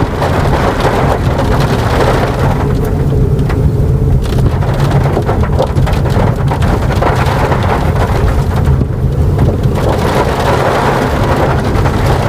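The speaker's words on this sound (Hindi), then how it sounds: "बरसात तेज हो चुकी है।" Heavy rain lashes a city road in Agra during a violent storm, a loud continuous downpour with low rumbles of thunder rolling beneath it, no voices.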